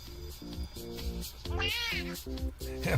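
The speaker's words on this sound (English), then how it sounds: "Cat." A cat meows several times in a row, close and fairly clear, with short repeated calls and one longer drawn-out wail, no talking over it.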